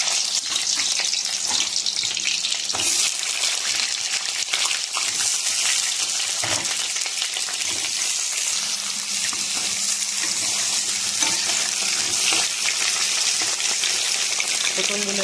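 Pointed gourd (potol) frying in hot mustard oil in a kadai over a clay stove, a continuous loud crackling sizzle with occasional sharp pops and bursts throughout.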